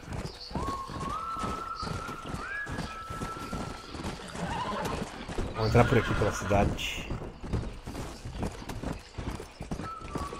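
Horses in the Red Dead Redemption video game clip-clop along in steady hoofbeats, with several loud whinnies rising early and later. Someone talks over the sound throughout.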